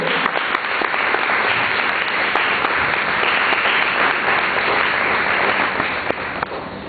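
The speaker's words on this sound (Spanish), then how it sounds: "Dale un fuerte aplauso en alabanza." Church congregation giving loud, sustained applause in praise, a dense continuous roar of clapping with a few sharper claps standing out.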